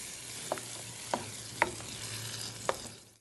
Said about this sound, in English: we're going to take our pureed San Marzano tomatoes and we're going to add that right to the pan. We're going to give it a quick stir.